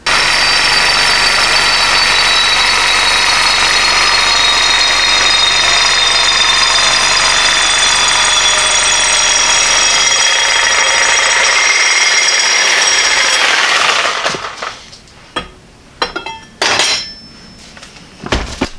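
Steel plate being cut for a Model A hot rod shop truck: a loud, steady metallic shriek of a power cutting tool runs for about fourteen seconds, then stops, followed by a few sharp clanks and knocks.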